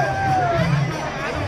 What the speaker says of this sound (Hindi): यहाँ के भीड़ आप मन देख सके तो बहुत ही ज़्यादा भीड़ है।